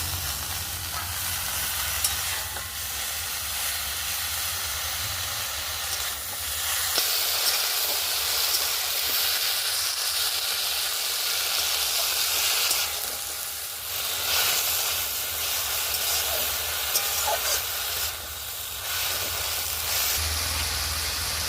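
Thankuni leaves dropped into a hot frying pan hiss and sizzle steadily and loudly throughout, a continuous broad frying crackle with a few faint utensil touches and no voices.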